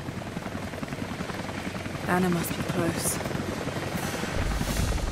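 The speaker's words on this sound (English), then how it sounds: "Looks like a helicopter's coming by." A helicopter passes by in the Rise of the Tomb Raider video game, its steady rotor drone building and holding throughout while a voice speaks over it.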